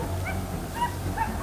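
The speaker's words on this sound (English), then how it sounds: "The sharp barking of the hunting dogs" Hunting dogs on a wild boar hunt deep in a forest give a couple of short, sharp yips and barks, moderately close, over a dense background rumble.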